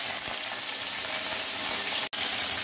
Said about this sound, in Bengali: তেল গরম হয়ে গেছে, দিয়ে দিচ্ছি সামান্য সাদা জিরে ফোড়ন। দিয়ে দেবো এর মধ্যে কাঁচা লঙ্কা ফোড়ন।